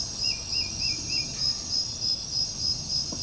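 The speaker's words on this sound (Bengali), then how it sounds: "আর যা ঝিঝি পোকার ডাক থাকে" Forest crickets beside the Lataguri jungle road keep up a loud rhythmic pulsing chirp, with a few brief bird calls near the start.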